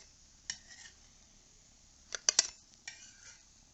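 Fried bun parotta is lifted out of a pan of hot oil, with a few distinct metal-on-pan scrapes and clinks spaced apart and a faint sizzle underneath, close and fairly quiet.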